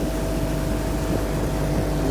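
A Seaflite 179SS motorboat cruises along under outboard power, a steady close engine drone blended with rushing water and wind noise, unbroken for the whole stretch.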